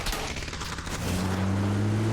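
Gunfire in PUBG: Battlegrounds crackles as a cluster of distant shots in the first second, then gives way to the steady hum of a vehicle engine, with no talking.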